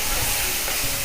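Ghugni spices sizzle and fry loudly in hot oil, a dense continuous crackle close to the pan.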